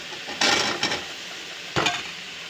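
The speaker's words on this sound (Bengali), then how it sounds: "আলুগুলো দিয়ে ভালো করে কষে নেব" Boiled potatoes fry in a pan with a soft sizzle, broken by two bursts of scraping and stirring, the first a quick double stroke and the second a single stroke.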